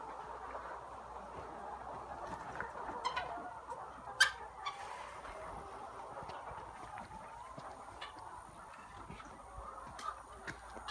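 Chickens cluck and chatter inside a Honduran chicken coop, a soft, continuous flock murmur with a few sharper calls rising now and then, heard at a moderate distance.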